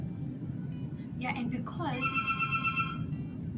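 A phone ringtone chirps for a couple of seconds, rising electronic tones over a steady background hum, with a person speaking around it.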